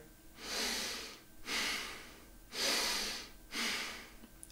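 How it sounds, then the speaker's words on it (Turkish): Four slow, even breaths drawn and pushed out through puffed cheeks as circular-breathing practice for the kaval flute, each a soft rushing hiss about a second long, close and alone. "Yani yanaklarımızı şişirip nefes alıp veriyoruz."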